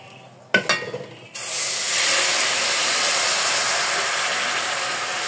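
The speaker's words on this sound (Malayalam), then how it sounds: "അപ്പം നമുക്കിനി പാനി ഒഴിച്ചു കൊടുക്കാം" Melted jaggery syrup, made from about 650 grams of jaggery, is poured into a hot pan: a short burst of clatter and splashing, then a loud, steady hiss and sizzle that holds on without a break.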